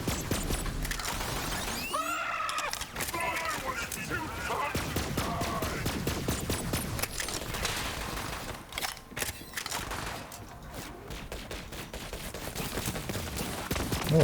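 Rapid bursts of heavy gunfire from a heavy gunner's large-projectile Maliwan gun in Borderlands 3 rattle on for the whole stretch, dense and loud, with short gaps and shattering impacts amid the firefight.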